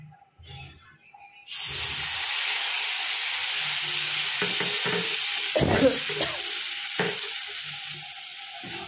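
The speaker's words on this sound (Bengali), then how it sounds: "এই তেলের মধ্যেই আমি দিয়ে দেব আমার বেটে রাখা মশলাটা" Ground mustard paste drops into hot oil left from frying fish for shorshe ilish, bursting into a loud, steady sizzle after a quiet start, with light clatters of stirring in the pan.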